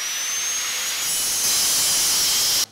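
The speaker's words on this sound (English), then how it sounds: "all I need to do is get in there with the grinder and open that up a little bit" Grinder biting into a tight joint on metal coffee table legs, a loud, steady high-pitched whine and grinding hiss up close that cuts off abruptly at the end.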